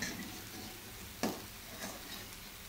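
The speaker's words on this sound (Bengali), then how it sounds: "তাই এই বাদামটা আমি এইভাবে ভেজে নিলাম" Peanuts fry in a pan, giving a quiet, steady sizzle with a sharp scrape or stir near the middle and softer stirring after, close and faint.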